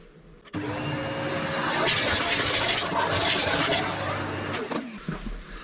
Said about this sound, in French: Toujours, vous passez l'aspirateur.